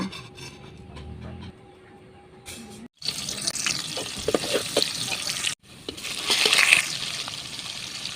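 Water is poured into a pan of spiced chicken being cooked down, making loud rushing and splashing bursts over sizzling, broken by short silent gaps.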